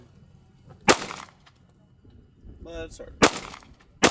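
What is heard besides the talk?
firearm gunshots during shooting training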